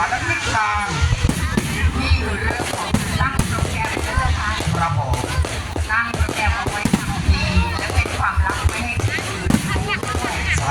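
A fireworks display at a fireworks competition pops and crackles in rapid, dense bursts, loud and continuous, while a commentator talks over it.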